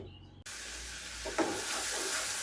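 Onion goes into hot oil in a pan, where a sudden loud hiss starts and then holds as a steady, bright sizzle with soft stirring scrapes on top.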